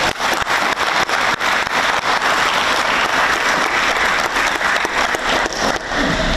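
Loud, dense applause from a crowd celebrating the Fiji election result, sustained clapping filling the whole stretch without pause.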